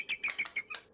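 A young cartoon eagle flaps its wings in its nest, five quick fluttering bursts of wingbeats with light chirpy tones, close and fairly soft, with no voices.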